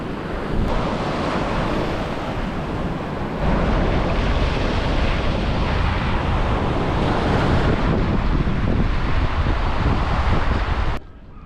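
Surf rolls onto a firm sandy beach on the Baltic coast between Świnoujście and Kołobrzeg while strong wind buffets the microphone, making a loud continuous roar that ends abruptly.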